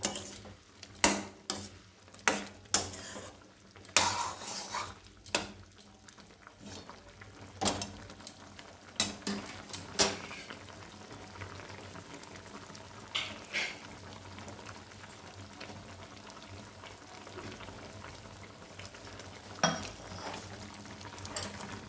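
Tomato chutney bubbles in a pan while a utensil scrapes and knocks against it in irregular bursts, loud clacks early on giving way to quieter, sparser stirring and a low simmering background.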